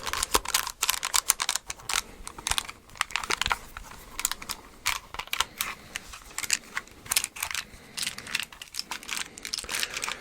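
Magnetic tiles with loose magnets inside are handled close up, giving a string of sharp clacks and rattling taps at an irregular pace, with no talking.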